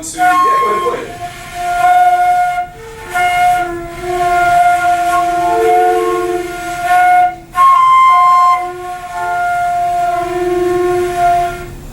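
A group of students at a camp flute lesson plays simple flutes together, sustained breathy tones that shift between a few notes in held phrases, with brief pauses and a voice speaking at the start.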